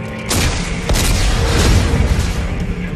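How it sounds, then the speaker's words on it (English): A heavy boom erupts from armed explosives detonating in the sci-fi game Dead Space 3, followed by a sustained low rumble and rolling debris noise that fills the rest of the moment, with no talk over it. "Computer, arm explosives."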